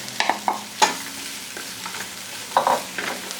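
Butter melting with diced zucchini frying in a pan for a Vietnamese curry: a light steady sizzle broken by several distinct utensil clicks and scrapes, close and fairly clear.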